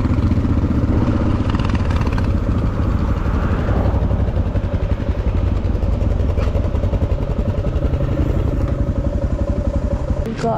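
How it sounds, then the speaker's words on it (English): A motorcycle idles close by with a loud, throaty aftermarket exhaust, its engine pulsing in a steady, lumpy rhythm throughout. "This is an after party exhaust. Just gives it a bit more of an aggressive sound."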